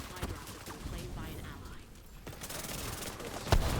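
Chatterbox SMG firing in the shooter game The Division 2, rapid bursts of clattering shots over a busy, noisy mix, with a voice talking through it.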